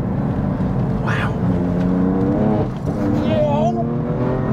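A heavily modified BMW M4 CS with its S55 engine pulls hard under acceleration, the engine note climbing steadily through the revs from inside the car, with brief voices over it.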